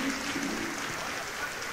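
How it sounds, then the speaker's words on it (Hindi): Audience applause at a Hindi-Urdu poetry reading (kavi sammelan), a steady, fairly quiet wash of many hands clapping, heard alone without talk. "एक मरतबा तालियां बजाकर मुझे बता दें अपनी"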